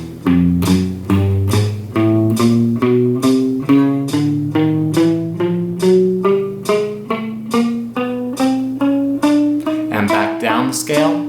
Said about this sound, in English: Now we're going to go to our eighth notes with an alternating picking pattern.